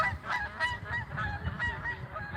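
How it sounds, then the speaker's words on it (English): Several geese honk in a steady, overlapping chorus as a flock departs, moderately near and continuous over a low background rumble, with no talking. "your geese are leaving"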